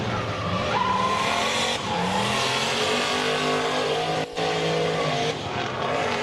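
Spec-D drift car in qualifying at Agassiz Speedway sliding into a corner entry on an e-brake pull, engine revving hard with continuous loud tire squeal and skidding, a brief dip near the end.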